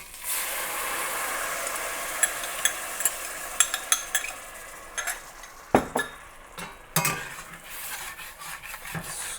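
Onions in a pan being deglazed with thick beef stock, with a steady wet sizzle and a run of sharp scraping and stirring clicks from a utensil against the pan, close and loud, and no talking.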